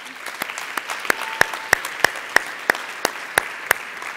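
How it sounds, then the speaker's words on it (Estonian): Applause from an audience at a youth conference award ceremony: a sparse patter of hand claps punctuated by sharp, evenly spaced loud claps in a steady rhythm, with no speech over it. "Teeme veel üks kord ühe suure aplausi neile."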